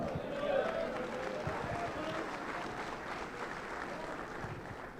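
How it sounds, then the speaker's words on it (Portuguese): A church congregation at a pastors' conference applauds in a steady, dense wash of clapping and crowd noise, moderately distant and sustained throughout, with voices mingling in. "dá um aplauso ao Senhor"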